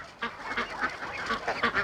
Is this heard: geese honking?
yes